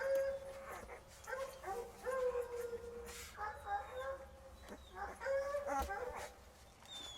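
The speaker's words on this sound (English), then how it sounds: "The dogs are barking at me." Several dogs at a home where a litter of nine-day-old puppies is being raised bark in repeated bursts, fairly close, mixed with whimpers and a rooster-like call, under a voice.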